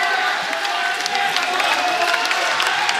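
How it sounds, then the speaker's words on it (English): Crowd at the Eternal MMA 57 event, a steady roar of cheering and scattered applause filling the arena for the whole stretch, fairly loud and continuous. "the crowd delighted with what they're seeing here at Eternal MMA 57"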